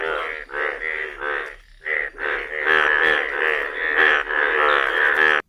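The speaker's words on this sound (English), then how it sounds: "F for frog." A frog croaks in a fast run of repeated rasping calls, steady and fairly loud, with a short gap near the middle before the calls resume and continue to the end.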